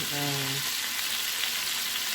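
Steady, close sizzling of potato fritters frying in hot oil, with a brief tonal hum at the start fading into continuous crackle.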